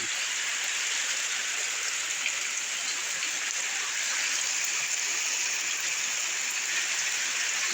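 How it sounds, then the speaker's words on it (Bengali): Heavy, unbroken rain pours down across flooded fields and roads in Lakshmipur district, Bangladesh, a dense, even hiss that holds steady throughout with no pauses. "দেখেন দেখেন কি পরিমাণ বৃষ্টি, দেখেন গাইস। বৃষ্টি কমতেছে না, বৃষ্টি বাড়তেছে টানা বৃষ্টি।"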